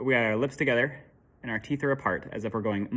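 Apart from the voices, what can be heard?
None of the usual background noises is heard.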